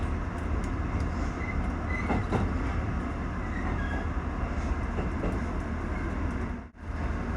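Kururi Line train in Chiba running on rails between Hirayama and Kazusa-Matsuoka stations, a steady, loud rolling rumble of wheels and carriage noise throughout, with a brief dip near the end.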